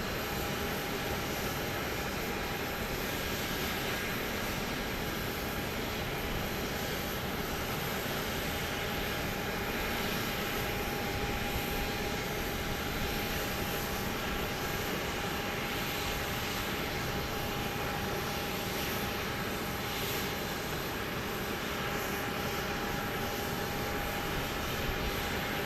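A plane lands at night on runway 13 left at Dallas Love Field, heard as a steady, far-off engine roar with a constant broad rumble and no voices throughout.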